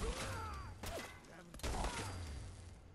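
Lightning Plasma Gun shots in Fallout New Austin, a couple of sharp electric bursts over a steady crackling hum, with faint voices in the background.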